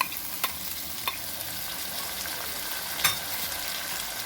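Pumpkin stirred and fried in a pan over a steady sizzle, with occasional spatula scrapes and taps against the pan.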